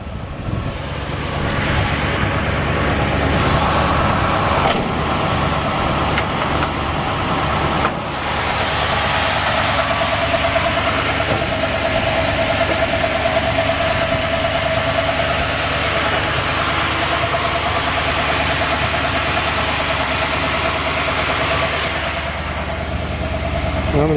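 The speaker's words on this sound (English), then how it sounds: "Just a real nice running engine, smooth." A 1966 Ford F100 truck engine idles steadily, slightly high while still cold, with a smooth, even exhaust rumble close by for a long stretch and someone talking over it at times.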